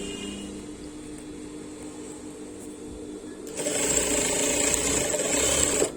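An electric sewing machine runs steadily, stitching piping onto cloth, its whirring motor and rapid needle rattle growing noticeably louder and busier partway through, with no talking.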